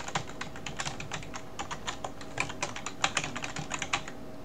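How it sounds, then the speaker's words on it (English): Name and email address typed on a computer keyboard during Microsoft Outlook setup with Gmail on Windows 10: a steady run of quick, close key clicks in a quiet room, with no talking. "So I'm going to type my name followed by my email address."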